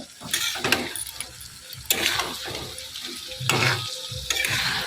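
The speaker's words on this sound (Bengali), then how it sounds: "জলটা দিয়ে আমি আরেকটু কষিয়ে নেব" Potatoes sautéing in a pan after a little water is added, sizzling and bubbling with repeated scraping and stirring strokes of a spatula, close up and without speech.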